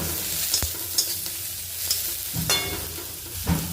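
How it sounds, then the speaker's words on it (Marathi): Onion with ginger and a handful of garlic cloves fries quickly in a pan: a bright, continuous sizzle with repeated spatula scrapes and stirring knocks close by. "तर आता हे मी पटपट भाजून घेते"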